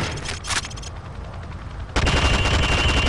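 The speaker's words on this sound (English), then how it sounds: "Now shoot at the targets while firing from the hip." Rifle gunfire at shooting range targets in Call of Duty Modern Warfare, a few loud close shots and a short rapid burst with sharp cracks and reverberant tails.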